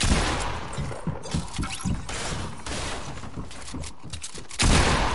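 Video game gunfire in a fast sequence of close, punchy shots, a run of quick bursts over a constant background din with no clear talk.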